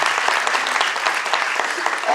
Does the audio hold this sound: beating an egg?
no